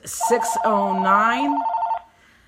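A telephone rings with an incoming call, a repeated electronic ring tone lasting about two seconds, loud and close, with a brief voice sound at the start.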